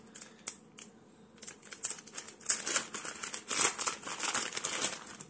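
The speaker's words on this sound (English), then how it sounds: "basically it's just a wrapper. Just peel this off." Plastic wrapper is peeled off the packaging of a Xiaomi 70mai dash cam, giving close, crisp crinkling and crackling that builds after a quiet start and continues in uneven bursts, with no talk.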